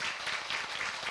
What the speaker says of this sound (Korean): 우리 여러분 오늘 다시 한 번 더 고생해주신 우리 세 분께 큰 박수 부탁드리겠습니다